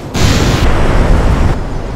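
Solid rocket boosters on a modded Kerbal Space Program spacecraft explode after separation, striking the side of the tanks, in a loud, dense, booming blast that lasts over a second, then quickly fades.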